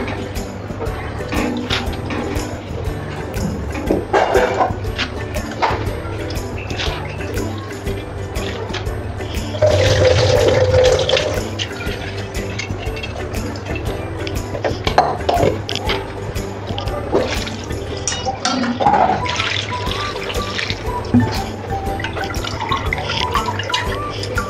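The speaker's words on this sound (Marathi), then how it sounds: "आता हिला आपण ह्या जाळीमध्ये काढून घेतोय" Washed moth beans tipped into a mesh strainer as water trickles and drips through, close and fairly steady with a louder gush partway, clinks and faint background voices.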